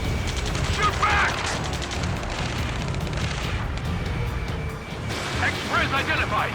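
Dense gunfire and mechanical clatter in the video game Ace Combat 7 run continuously in a loud, busy battle din, with shouted voices breaking through.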